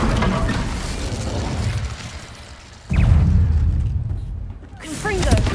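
In the video game Hogwarts Legacy, the Incendio fire spell is cast in combat, bursting out as a loud whooshing roar of flame that flares twice amid other game effects, with a voice speaking over it.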